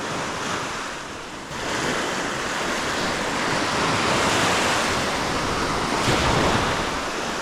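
Ocean surf rolls in continuously, a broad roar of breaking waves with wind buffeting the microphone, growing slightly louder after the first second.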